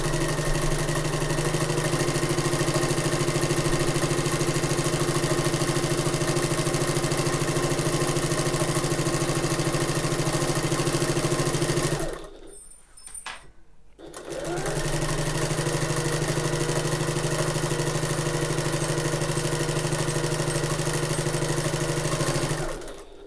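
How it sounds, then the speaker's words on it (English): A sewing machine runs in a long, steady, loud stitching burst while sewing the handles of an open-top tote bag, then briefly stops for about two seconds before resuming just as steadily. "That's not the last of the sewing on these handles"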